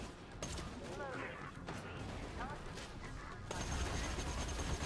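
Sustained gunfire in the shooter Borderlands 2, a dense, steady stream of shots at close range that grows louder and heavier toward the end, with no break in the firing.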